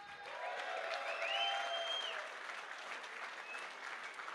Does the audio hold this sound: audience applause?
yes